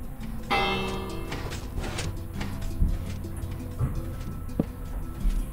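Minecraft villager bell rung by redstone when switching to daytime on Xbox One, a bright metallic bell strike with ringing harmonics standing out over a steady game background hum, followed by faint clicks.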